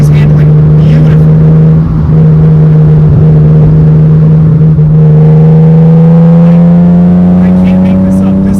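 Rally car engine driving mountain back roads in the Smokies, a steady loud drone with a gradual rise in pitch under continuous running, with talk over it.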